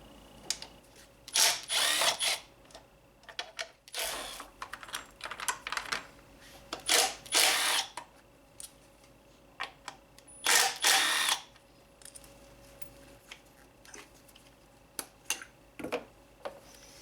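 A power tool removes the ignition coils and spark plugs from a Honda 2.4L K24 engine, heard as sharp, intermittent bursts of whirring and clicking separated by quieter pauses.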